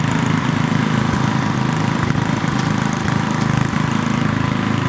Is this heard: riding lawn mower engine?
yes